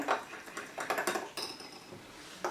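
A spoon clinks and scrapes against a cup or bowl while stirring a creamy restaurant-style cappuccino coffee mixture, a series of quick close metallic taps and swirls.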